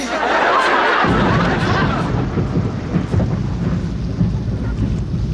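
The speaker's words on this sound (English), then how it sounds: "As the boys approached the house, they could hear thunder." A deep rumble of thunder rolls in and lingers, with rain hissing steadily underneath as the roar slowly fades.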